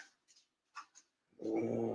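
A big old dog growls and whimpers at home in a few short, soft bursts, followed by a sudden loud, steady noise.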